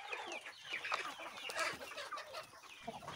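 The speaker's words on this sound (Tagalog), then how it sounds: "Ito yung mga manok natin na may mild na sipon. So kailangan natin ikulong." Hens clucking inside a cage where birds with a mild cold are kept apart for treatment, a steady busy chatter of several nearby birds with no one talking.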